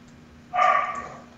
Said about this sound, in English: I'm just gonna close the door because the dog's barking.